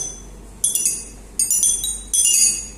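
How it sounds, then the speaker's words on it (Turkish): Three glass bottles of different shapes, holding different amounts of water, are struck one after another, each giving a bright ringing clink with a sustained high tone that fades, loud and close. "Farklı tipte yapılmış ama üç de cam olan şişeye vurduğumuzda"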